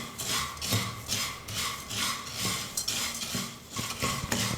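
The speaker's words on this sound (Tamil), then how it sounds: "ஸ்டவ்வை மீடியம் ஃப்ளேமில் வச்சுக்கிட்டு அவலை 5லேருந்து 6 நிமிஷத்துக்கு நல்லா வறுத்துக்கணும்." Flattened rice (aval) is stir-roasted in a pan over a medium flame, giving a steady dry rustling scrape with rhythmic strokes of a spoon against the metal, fairly close and with no talk.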